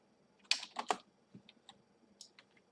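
Quick keystrokes on a computer keyboard during a Japanese-language game: a cluster of close, crisp clicks followed by a few sparser, softer taps, quiet and without speech.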